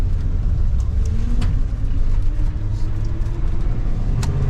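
A 1985-era Chevrolet Suburban squarebody with an NV4500 manual gearbox, heard from inside as a loud steady low engine rumble during a gear change.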